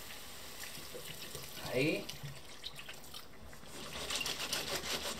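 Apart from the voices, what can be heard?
water being poured into a pan of clams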